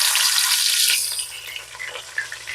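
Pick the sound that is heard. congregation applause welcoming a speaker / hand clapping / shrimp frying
shrimp frying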